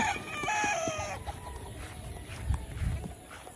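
A large flock of farm chickens clucks continuously while a rooster lets out one clear, close crow near the start, followed by scattered clucks and shuffling noises.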